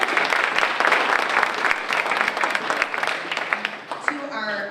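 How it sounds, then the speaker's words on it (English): Applause from an audience for award winners at an annual meeting and Kabbalat Shabbat service, sustained clapping that thins out toward the end as a voice begins speaking. "you can clap for them again"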